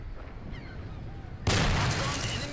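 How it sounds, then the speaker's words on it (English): Gunfire in Men of War: Assault Squad 2, a World War II battle at Dunkirk in 1940, starting as a soft distant rumble and then jumping to a loud, dense crackle of shots that continues to the end. "let's open fire on that MG position"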